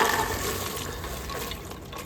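Water pours into a pressure cooker holding washed beans in a home kitchen, a brief, soft, steady splashing stream with no talk.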